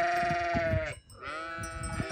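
Two long, wavering bleats from a goat close by, with a short quiet gap between them.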